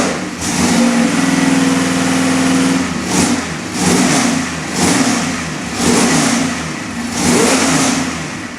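Edelbrock crate engine revving, a loud, close steady run followed by four or five rhythmic throttle blips that rise and fall, with no talking over it.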